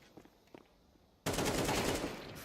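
After a quiet stretch with faint taps, a loud, sustained burst of rapid automatic rifle fire erupts in a competitive esports shooter match, continuing to the end.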